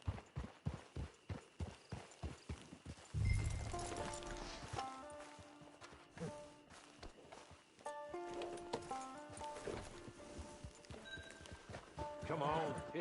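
Horse hooves clip-clop in a steady trot, then a horse whinnies and snorts, with a voice speaking over the hoofbeats, in the video game Red Dead Online.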